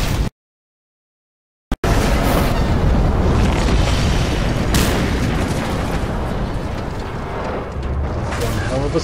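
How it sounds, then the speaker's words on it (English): Explosion in the video game Mad Max: after a moment of silence, a loud, sudden blast erupts into a sustained roaring rumble that fills the rest of the clip and slowly fades. "One hell of an explosion."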